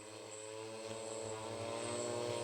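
An IF800 Tomcat drone flies with a steady, whining propeller drone, continuous multi-tone buzzing that holds level throughout.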